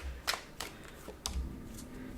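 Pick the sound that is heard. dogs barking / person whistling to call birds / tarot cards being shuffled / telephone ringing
tarot cards being shuffled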